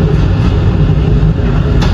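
The Cakrabuana train rolls loudly through Jatinegara station without stopping, a close, continuous rumble of wheels and carriages.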